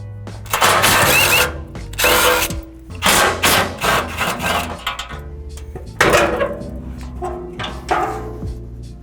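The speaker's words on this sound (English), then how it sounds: "just use a 12mm socket and you're going to remove 4 bolts underneath here" Power tool with a 12mm socket removing the four skid plate bolts beneath a Toyota 4Runner, close and loud, running in repeated bursts of whirring with short pauses between them.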